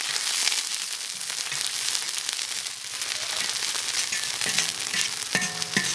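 Chopped scallions slowly frying in oil over medium heat for scallion oil, a continuous dense crackling sizzle, close and even throughout, with a couple of brief tonal sounds near the end.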